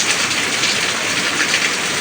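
Steady rain falls outside toward evening, a dense, even hiss of drops that continues unbroken at close range.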